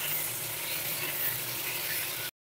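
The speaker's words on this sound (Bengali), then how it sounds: "আর ফুলকপিগুলো আলুর সাথে বেশ ভালো করে লাল লাল করে ভেজে নেব।" Potatoes and cauliflower florets fry together in hot oil, a steady dense sizzle with faint stirring clatter running unbroken and fairly loud before cutting off abruptly.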